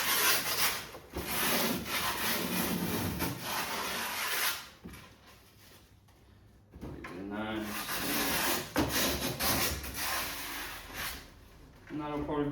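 A skateboard deck's edges are rubbed to smooth out imperfections, producing close, continuous scraping and rasping strokes with a short quieter pause midway.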